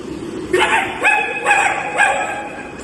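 A human voice imitates a puppy's yips: four short, high, rising squeaks in steady succession, close and clear with no other talk.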